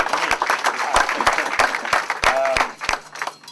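Brief applause at an art exhibition opening ceremony, scattered claps sounding through and over someone speaking.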